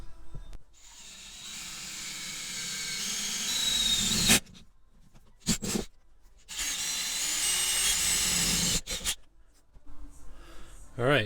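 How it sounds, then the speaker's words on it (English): Power drill boring two holes through the floor of a Ford Foxbody car for seat mounting: two long, loud whirring bursts, each a few seconds long, close by, with brief quieter handling noises between them. "Alright, 2 holes drilled."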